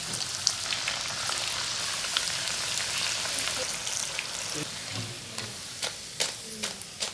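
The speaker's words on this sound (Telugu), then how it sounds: "ఆయిల్ వేడికాగానే మనం ముందుగా అప్పాలాగా చేసుకున్న అప్పాలని ఆయిల్లో వేసుకొని చక్కగా గోలించుకోవాలి." Potato and cabbage fritters deep frying in hot oil in a kadai, a steady crackling sizzle with occasional stirring clinks and bubbling bursts near the end.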